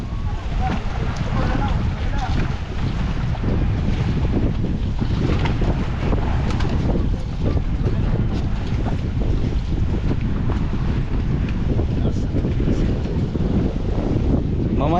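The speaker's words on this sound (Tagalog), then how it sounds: "sobrang lakas ng hangin." Strong wind roars and buffets the microphone without a break, with rushing water and a boat's motion underneath and voices faintly mixed in.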